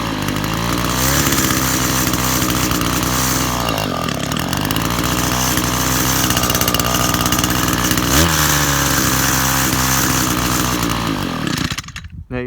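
A small two-stroke engine running lean screams loudly at high revs, its pitch wavering then climbing higher, running continuously before cutting off abruptly at the end.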